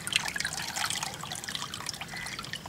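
Water poured from a large 5-litre can trickles and splashes steadily into a container, a continuous soft gurgling stream at close range with no talking.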